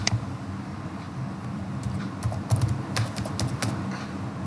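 Typing on a computer keyboard, a few scattered keystrokes at first, then a denser run of clicks in the second half, close and fairly quiet over a low steady background hum, with no talking.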